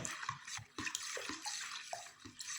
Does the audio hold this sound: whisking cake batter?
yes